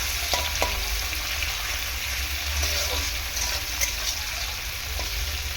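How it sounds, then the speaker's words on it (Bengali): Tomato and onion frying in oil while being stirred for a catla fish curry with potato, a steady close sizzle with occasional scrape and clink accents throughout. "দু মিনিট মতো টমেটো আর পেঁয়াজটাকে তেলের মধ্যে এরকমভাবে নাড়াচাড়া করে নেবো"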